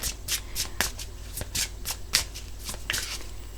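Close-up hand shuffling of a glossy tarot deck, a rapid sequence of crisp, papery riffles and taps repeating at a brisk, uneven rhythm, soft overall.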